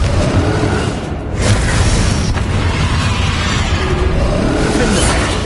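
In Hogwarts Legacy, a Confringo blasting spell sets off a loud, crackling explosion, a dense roar of blast and debris that swells, dips briefly, then rumbles on steadily.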